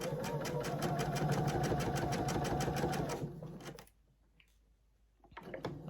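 A sewing machine stitches a magic pillowcase in a steady, fast run of needle strokes. It stops abruptly, leaving a quiet pause with faint handling noise, then starts again briefly.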